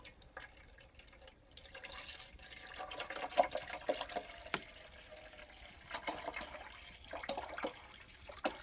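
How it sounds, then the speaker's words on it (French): Distilled water trickles and splashes into the tank of an ultrasonic cleaner, a faint, uneven pouring with small drips and splashes, heard alone in a quiet room. "On va remplir d'eau distillée."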